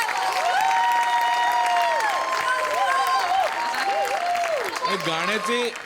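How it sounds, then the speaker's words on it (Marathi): A studio audience on the Marathi comedy show Maharashtrachi HasyaJatra claps steadily for the performer Vanita. The applause stays dense and even throughout, with music and a singing voice playing over it. "वनितासाठी एकदा स्पेशल टाळ्या"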